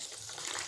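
Water gushes briefly and continuously as it is poured over finger millet (ragi) set to soak, a close, splashy, bright pour.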